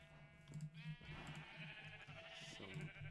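Minecraft sheep bleating in a video game, several wavering nasal bleats repeating over about three seconds, fairly loud and close, with no talking over them.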